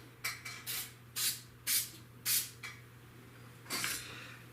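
3M Super 77 spray mount adhesive sprayed from an aerosol can in a series of short, close hissing bursts with brief pauses between them.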